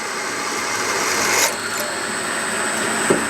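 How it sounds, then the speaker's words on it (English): Electric drill boring dry through metal in a sawmill shop, a steady continuous grinding whir held at close range with a brief louder bite near the middle and a small clunk near the end. "I'm drilling them dry."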